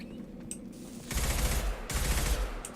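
Assault rifle fire in Mass Effect 2, two loud sustained bursts of rapid automatic shots with a heavy low thump, separated by a brief pause, after a few quieter game sounds.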